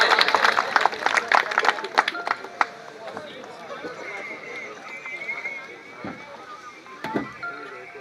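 Audience applause at a teachers' retirement farewell party at a school, a dense patter of clapping that fades after a few seconds, with a voice speaking over it.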